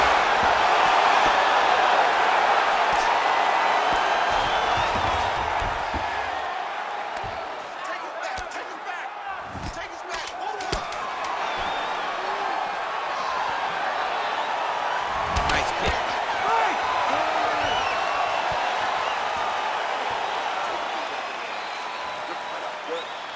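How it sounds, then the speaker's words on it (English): Crowd noise from a UFC welterweight bout in a PS5 video game, a broad sustained arena roar that swells and eases with a few sharp thuds, cheering after a round. "So the crowd voicing its appreciation after that round."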